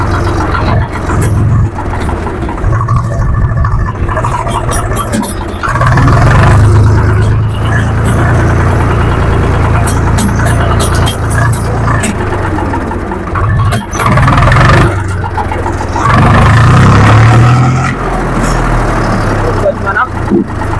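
A road vehicle's engine pulls steadily and loudly as it runs up through first and second gear, with the pitch rising and dropping at each shift, and a voice talks over the droning engine throughout.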